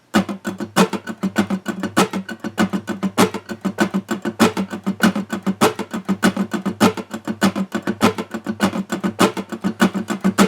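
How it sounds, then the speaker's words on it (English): Muted guitar strings scratched in a quick, steady percussive rhythm, dry choppy strums repeating evenly like a hi-hat pattern. "I'm just muting the strings, and I'd have something that sounds like this."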